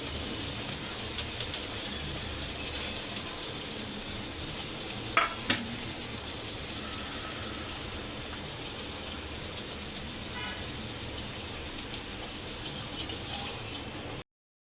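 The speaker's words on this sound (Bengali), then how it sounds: "লো টু মিডিয়াম হিটে কিন্তু এগুলোকে ভাজবো।" Semolina and boiled-potato snacks frying in oil over low to medium heat make a soft, steady sizzle throughout, with a brief clink of a utensil against the pan partway through.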